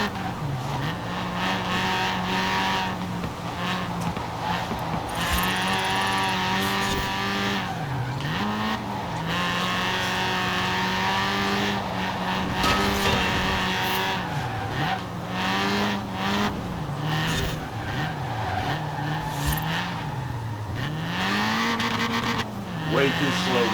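Tires squeal and skid on a car in Forza Horizon 4 during a touge mountain run, with a steady engine note rising and dipping continuously and loud throughout, and a voice talking over the driving.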